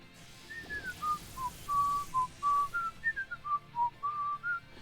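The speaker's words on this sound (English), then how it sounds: "I thought I was just whistling this little song." A person whistles a little melody in a string of clear, pure notes, some held and some stepping up and down, fairly close over faint background noise.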